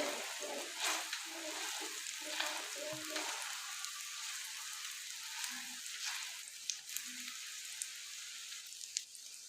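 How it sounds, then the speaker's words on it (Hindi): An egg frying in a pan, its faint sizzle and crackle holding steady under soft scattered pops and kitchen sounds. "अंडा फ्राई हो चुका है, इसको निकाल लीजिए।"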